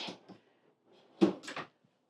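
A drawer in a Keystone Cougar 316RLS travel trailer slides and bumps shut nearby with a couple of soft knocks, quiet otherwise.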